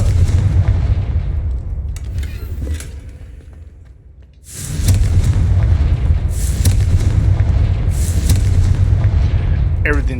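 Confringo blasting spell explosions from the Hogwarts Legacy video game, a dense roar of booming blasts that fades to a lull, then bursts back in loud and sustained with sharp crackling hits over a heavy low rumble.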